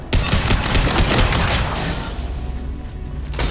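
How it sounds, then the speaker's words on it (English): Loud, dense sniper rifle fire in Mass Effect 2, with heavy blasts and rolling booms packed close together, then tapering into a lingering rumble of battle. "Sniper rifle neutralization."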